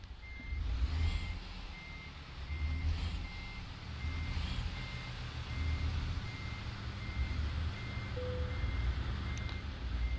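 Reversing beeps from a truck in a video game, a steady series of short evenly spaced tones repeating over a continuous low engine rumble, with no talking.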